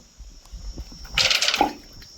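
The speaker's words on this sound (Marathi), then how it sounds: "आता मी तुम्हाला दगड टाकून दाखवतो पाणी किती वेळात किती लवकर हे येते बघा" A brief watery splash echoing from deep below after a short pause, a stone striking water at the bottom of a narrow 20-foot borewell shaft.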